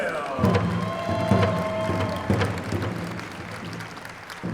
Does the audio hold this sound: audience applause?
yes